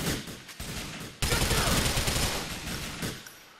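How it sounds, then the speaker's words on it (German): Rapid automatic gunfire in the video game GTA 4, loud bursts of shots crackling for a few seconds with a brief gap, then a denser sustained volley fading out. "deswegen schieße ich jetzt auf alle hier"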